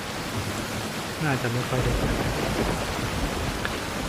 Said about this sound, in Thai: โอ้ยเสียงฝนตก